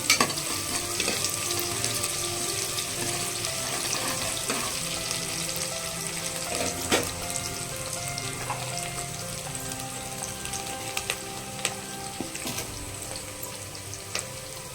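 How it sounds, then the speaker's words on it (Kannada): Onions frying in a pan until brownish for a mushroom kurma, giving a steady close sizzle throughout with occasional stirring scrapes and clicks, no voices. "ಸ್ವಲ್ಪ ಈರುಳ್ಳಿ ಚೆನ್ನಾಗಿ ಫ್ರೈ ಆದ ಸ್ವಲ್ಪ ಬ್ರೌನಿಶ್ ಆಗಿ ಬರಲಿ"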